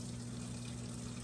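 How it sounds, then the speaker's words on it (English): Water runs through the bleach, detergent and fabric softener dispenser compartments of a Whirlpool Cabrio Platinum washer, a constant rushing flow over a low, steady pump-like hum, close and unbroken. "It actually runs water through those compartments with the bleach and the soap and the fabric softener"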